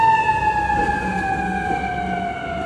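An ambulance siren wails steadily close by, its pitch sliding slowly downward as it passes, loud over a low rumble of background noise.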